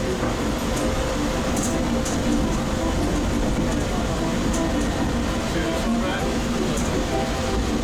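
Hersheypark monorail car gliding along its track at about 10 mph, giving a steady, continuous rumble and hum with faint rail clatter throughout, loud and close from inside the car.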